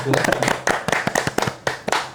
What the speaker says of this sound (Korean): 박수 한번 치켜서